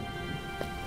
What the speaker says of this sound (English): It's just rain, Muley.